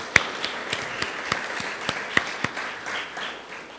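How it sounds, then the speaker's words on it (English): An audience at a university campaign announcement gives a light round of applause for public servants, scattered individual claps standing out sharply over a soft, steady patter with no talk. "Let's give these dedicated public servants another round of applause."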